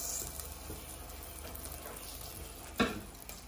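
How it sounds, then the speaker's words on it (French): A little butter dropped into hot ordinary oil in a pan sizzles steadily, with a soft spatter and one sharper crackle near the end, close and fairly quiet with no talking. "On met un peu d'huile normale, un petit morceau de beurre."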